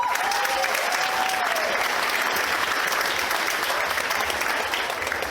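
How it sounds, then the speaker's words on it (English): Wedding guests applaud the couple in a dense, sustained round of clapping that stays loud and even throughout, with a faint whistle near the start. "a big round of applause for them."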